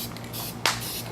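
A short, sharp burst of spray paint hisses close by as a kid's bike is painted, over a low background hum.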